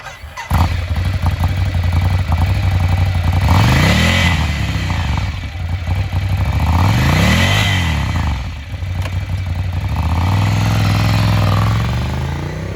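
A used 2017 Ducati Scrambler Full Throttle 800cc motorcycle idles loudly up close and is revved several times, each blip rising sharply and falling back to a lumpy idle.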